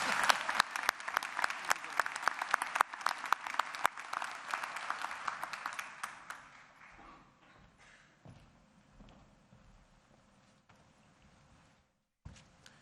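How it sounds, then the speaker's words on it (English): Audience applause at a university winter commencement, a dense burst of clapping for about six seconds that thins out and fades into scattered claps and room noise. "Let's have a round of applause"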